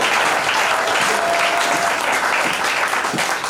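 A church congregation applauding at a French-language worship gathering, a steady, dense wash of clapping from many hands, loud and sustained throughout.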